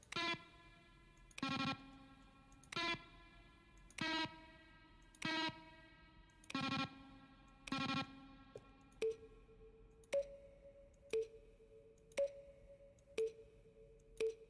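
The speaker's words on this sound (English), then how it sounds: "A selection of sounds used throughout the game when buttons are pressed. Each sound is the mix of a keyboard stroke and a synthesized tone." Button-press sounds from the video game The Stanley Parable, each a keyboard stroke blended with a synthesized tone, played as a dozen evenly spaced distinct cues, earlier ones buzzy and harmonic, later ones short pure beeps.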